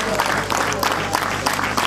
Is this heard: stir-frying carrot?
no